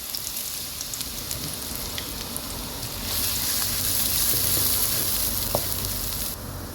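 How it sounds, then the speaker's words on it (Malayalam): Ginger and garlic fry in hot coconut oil in a frying pan, giving a dense, steady sizzle that swells louder midway with occasional crisp pops, heard alone. "അതിലേക്ക് നമ്മൾ വെളിച്ചെണ്ണ ചൂട് വന്നതിന് ശേഷം ഇഞ്ചിയും വെളുത്തുള്ളിയാണ് നമ്മൾ ഇട്ട് കൊടുത്തിട്ടുള്ളത്."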